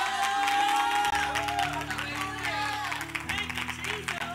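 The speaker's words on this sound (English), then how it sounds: "Somebody clap your hands and give God a mighty praise" Church congregation clapping and cheering in praise, a steady wash of hands and raised voices with organ-like tones sustained underneath, fairly loud and continuous.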